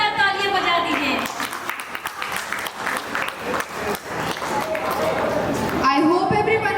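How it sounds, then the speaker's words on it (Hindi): Steady applause from a party crowd, a dense run of many hands clapping for several seconds, with music and voices around its start and end. "प्लीज एक जोरदार तालियां बजा दीजिए"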